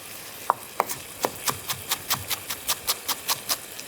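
A knife slicing through a bundle of rolled-up fresh herbs on a board: a few slow cuts, then a quickening run of about a dozen crisp, evenly spaced chops, close and clear.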